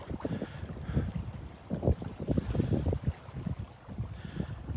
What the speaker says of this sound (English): Quite breezy out here, wind coming from the north.